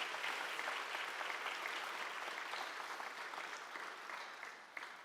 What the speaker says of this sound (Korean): 다시 한번 뜨겁게 박수하겠습니다.